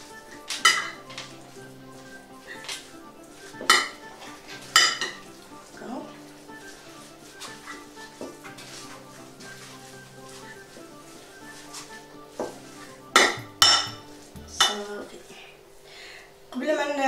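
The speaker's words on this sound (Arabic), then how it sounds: "قبل ما نشكل الكويرات غادي نمزج هاد العناصر اللي عندي هنايا مزيان." A spoon scrapes and clinks against a bowl as sardine kofta ingredients are mixed by hand for a Moroccan tagine, with irregular sharp knocks over soft stirring and a voice talking at times.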